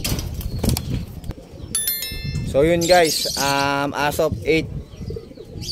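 A red check racing pigeon arrives at a loft during derby training in Rosales, Pangasinan: wings flap briefly, then close, clear cooing rises in several phrases, and someone talks over parts of it.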